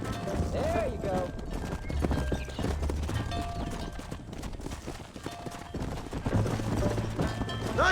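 A horse in the Red Dead Redemption video game clip-clops at a gallop and whinnies loudly, with hoofbeats running throughout over a busy game soundscape while voices talk.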